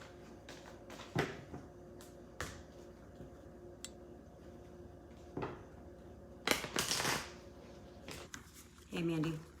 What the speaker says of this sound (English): I'm just going to finish shuffling my cards quick